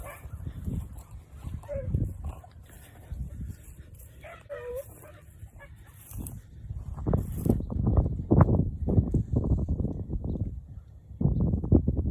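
A young dog barks outdoors on a snowy day, a run of sharp, fairly close barks clustering in the second half between quieter stretches, with some faint background noise.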